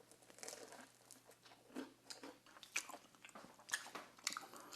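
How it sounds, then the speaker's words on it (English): Someone bites into a croissant made with cheap butter; crisp flaky crunches and chewing repeat at close range across a few seconds, with rustling pastry layers between bites. "Start with our cheap butter."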